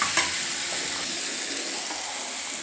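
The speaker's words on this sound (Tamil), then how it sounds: "தேங்காவையும் போட்டு அதோட கிளறியாச்சு" A sautéed mixture with grated coconut being stirred in a frying pan, a bright steady sizzle and hiss with a light scrape of the spoon near the start, close and without talk.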